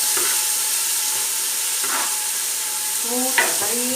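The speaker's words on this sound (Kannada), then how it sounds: "ಮತ್ತೆ ಟೊಮೆಟೊ ಪಾಡ್ಗ ಫ್ರೈ ಆಗಿ" Tomatoes fry in a pan for a garlic fish masala, giving a steady close sizzle with a few soft stirring scrapes.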